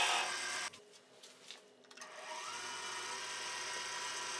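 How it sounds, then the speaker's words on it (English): A wood lathe spins a punky spalted birch goblet while a half-inch spindle gouge cuts the stem, giving a steady whirring hum that briefly dips and then holds at a moderate, close level. "using half-inch spindle gouge to turn the stem of the goblet"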